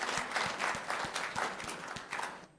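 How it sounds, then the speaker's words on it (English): An audience in a hall gives the technicians a round of applause, a moderate spread of clapping with a few sharper individual claps standing out, fading away at the end. "I think we can give the techs another round of applause"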